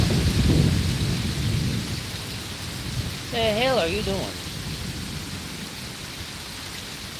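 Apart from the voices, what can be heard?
severe thunderstorm with rain and thunder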